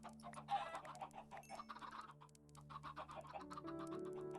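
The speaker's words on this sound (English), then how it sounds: "A lot of these cockerels." Cockerels in the video game TerraFirmaCraft clucking, a quiet scatter of short repeated bird calls layered over one another with a faint steady tonal background underneath.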